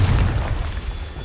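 A Confringo blasting spell explodes with a loud, deep boom. The low rumble rolls out for about a second and tapers slightly at the end.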